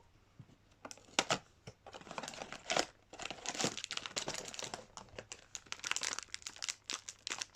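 Plastic figure packaging is torn open at a tear tag, giving a close, busy run of crinkling, ripping plastic with sharp snaps and rustles, heard alone with no talking.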